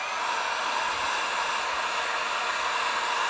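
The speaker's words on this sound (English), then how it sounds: "We'll apply a little heat with my heat gun." A heat gun blows a steady, loud rush of hot air onto heat-shrink tubing on a trailer whip light wiring connection, continuous and even with no talking.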